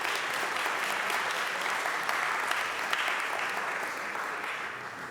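A crowd applauds at a Tougaloo College event, giving a speaker another round; dense, sustained clapping at a steady level that tapers slightly near the end.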